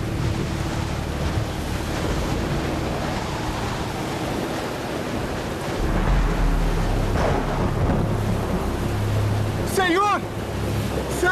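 Stormy sea with wind: steady roaring surf and gusts fill the whole stretch at an even, loud level, with a brief whistling streak near the end.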